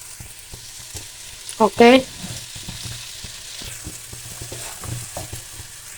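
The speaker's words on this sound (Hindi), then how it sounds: "अब ये फ्राई होने तक हम वेट करेंगे इसको।" Vegetables, potato and tinda, frying in a pan with a steady soft sizzle and occasional stirring scrapes, while someone speaks briefly near the start.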